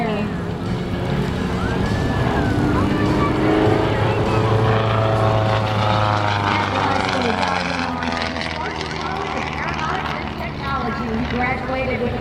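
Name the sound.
aerobatic airplane flying at an air show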